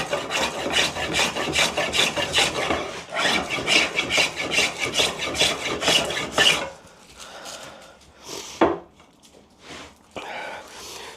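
Plough plane cutting along a wooden workpiece, repeated rhythmic rasping strokes at a quick pace, close and fairly loud, then a few slower, more spaced strokes near the end.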